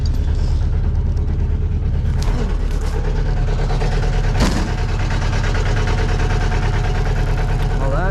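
A tractor engine idles steadily while warming up, a loud low rumble running throughout with some brief clanks and faint background sounds over it.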